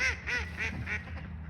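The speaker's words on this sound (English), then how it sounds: "it's a couple of noisy ducks" A couple of ducks on a park pond give a run of four or five loud, nasal quacks in quick rhythm, fairly close, with soft background hum beneath.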